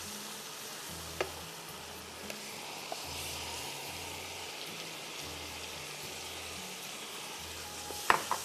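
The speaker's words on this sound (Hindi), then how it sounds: "इतना भूने 3-4 मिनट के प्याज का कच्चापन ख़त्म हो जाए।" Onions frying in a pan for mutton paye, a steady soft sizzle running throughout with faint periodic low hum and a couple of sharp clinks near the end.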